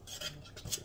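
A spoon stirs two cups of flour in a mixing bowl for a pineapple upside-down cake, giving a short run of soft scraping and light clinks against the bowl.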